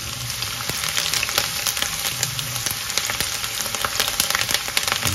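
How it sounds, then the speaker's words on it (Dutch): Loud, close frying of onions in hot oil, a dense crackling sizzle with rapid pops throughout. "Dus dan ga ik mijn uien bakken."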